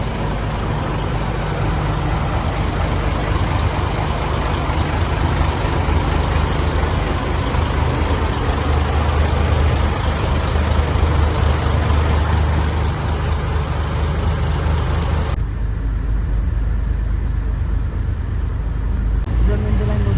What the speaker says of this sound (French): Et voilà le moteur.